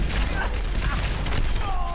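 Rocket launch and blast in the team shooter Overwatch during competitive play, a dense burst of booming gunfire and explosive crackle with whistling effects, loud and continuous over the two seconds, with a voice talking underneath.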